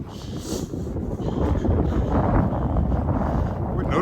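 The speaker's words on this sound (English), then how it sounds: "The wind is there." Winter wind gusting outdoors on a walk around a lake in Regina in January, a steady rumbling buffet against the microphone that builds slightly over the few seconds, with no speech.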